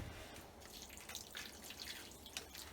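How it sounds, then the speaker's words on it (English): Water poured into a brick stove, heard as faint, scattered drips and small splashes trickling over a quiet background, with no voices. "I'm pouring some water in there."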